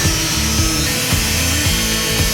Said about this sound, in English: take the angle grinder and cut out these support beams